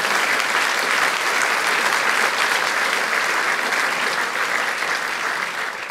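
A church congregation applauds loudly and continuously, a thick wall of clapping that barely eases before it tapers slightly at the end.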